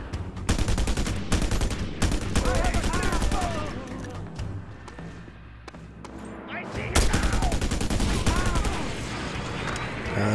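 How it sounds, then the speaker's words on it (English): Dense bursts of video game gunfire crackle in rapid volleys, heavy and loud, with machine-gun rattles and explosions in a shootout around stairs during a bank robbery game; a faint voice murmurs beneath. "Where am I getting shot from?"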